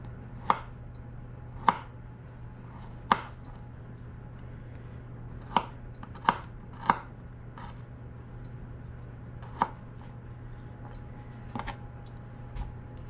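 Knife chopping garlic cloves on a cutting board while making scalloped potatoes and ham, about nine sharp, irregularly spaced chops over a steady low background hum, with no talking.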